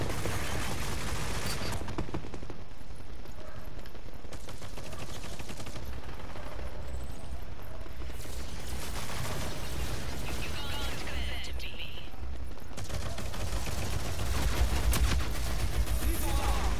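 Gunfire in the shooter game Rogue Company crackles in repeated rapid bursts throughout, fairly loud and continuous, mixed with game effects and a player's occasional speech.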